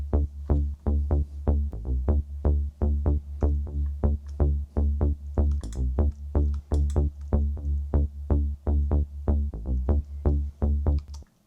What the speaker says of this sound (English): basically the bass sounds like this